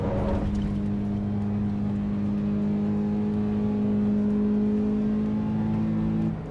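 A racing car's engine in Assetto Corsa EVO drones at high revs, held near the top of the rev range in one gear with steady, bright harmonics for several seconds, loud and alone before dropping away at the end.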